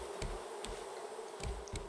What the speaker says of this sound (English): Over here I have the bees.